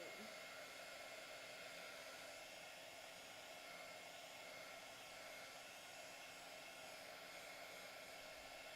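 Heat tool blowing steadily close by while speed drying an ink-blended craft card, a constant airy whoosh and whine that runs evenly throughout with no talking.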